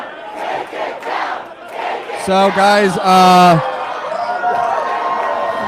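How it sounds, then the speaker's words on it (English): A large crowd at a New York City mayoral election night event cheers and shouts loudly, with a swelling collective roar and rhythmic chanting partway through, while a nearby voice speaks briefly over the noise. "people are cheering "Take it down.""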